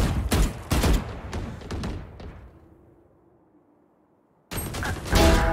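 Rapid bursts of gunfire from the Valorant shooter, several sharp shots clustered loudly at the start, a quiet lull with faint hum, then another dense burst of firing.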